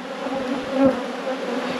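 Honey bees buzz steadily and close by during a brood inspection of an abandoned hive with rotten frames, a continuous droning hum with a brief louder swell partway through.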